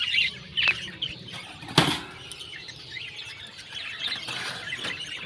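Pet birds' wings flap in quick bursts close by, with small birds chirping and squeaking in the background.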